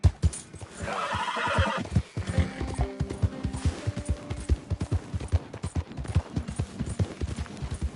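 Horse in the Red Dead Redemption 2 video game whinnies loudly near the start, then hooves clop in a steady galloping rhythm. Game effects and faint ambience sit underneath.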